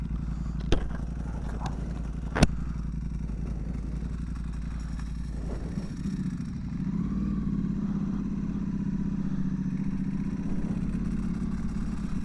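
A 2025 Ducati Panigale V4S Tricolore being ridden, its engine a steady low drone heard from the saddle with a couple of sharp clicks early on, continuous and moderately loud with no talking.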